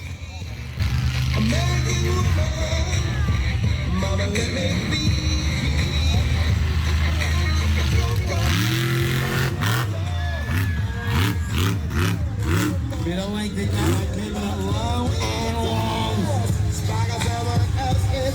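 The loud engine of the three-seat MisMayhem monster truck roars and revs continuously during a passenger ride at a monster truck event in Nowra, New South Wales, with an announcer's voice running over the engine.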